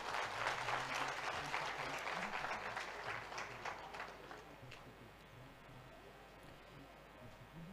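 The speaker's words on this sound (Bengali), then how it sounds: "আমাদের চন্দন চ্যাটার্জির জন্য একটা জোর হাততালি দিয়ে দিন" Audience applause for Chandan Chatterjee at a motivational speaking event, a dense, sustained clapping from a hall crowd that is loudest at first and gradually thins and fades over several seconds.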